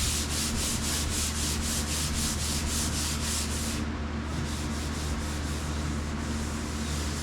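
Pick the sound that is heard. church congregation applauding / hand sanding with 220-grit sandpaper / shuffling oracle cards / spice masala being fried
hand sanding with 220-grit sandpaper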